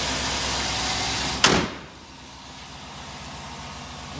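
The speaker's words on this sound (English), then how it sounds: "Close the hood." A truck hood slams shut once with a sharp, loud thud over an idling LSX engine, the steady engine rumble carrying on more quietly afterward.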